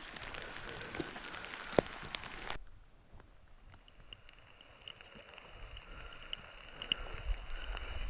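Faint, steady patter of rain on a mountain near a 2045 m summit, a soft continuous hiss with scattered light drops and a few brief taps, quiet and even throughout.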